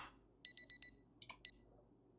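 Alarm clock in the video game Project Zomboid rings as a quick run of four bright electronic beeps, then a short pause and a few more beeps, clear and close over a faint quiet background.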